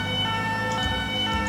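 Police emergency siren in the video game GTA with the LSPDFR mod, a steady sustained electronic wail with stacked harmonic tones holding at constant loudness, no talk over it.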